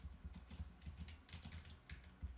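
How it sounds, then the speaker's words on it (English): Soft, close keyboard typing, a run of light rapid taps over a low, rumbling background, faint and brief. "I'm typing and I'm sending."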